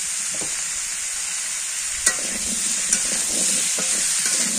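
Curry with chili and turmeric powder is stirred as it fries in a pan, a steady hiss with scraping spoon knocks, including a sharper clack near the middle, close and continuous with no talk.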